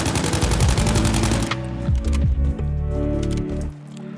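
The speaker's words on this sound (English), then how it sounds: "you want to stand still when you're shooting targets, especially from mid-range" Rapid automatic gunfire from a Battlefield 5 shooter match, loud and dense for the first second and a half, then continuing as slower bursts of shots with mechanical clatter, fading near the end with no talk.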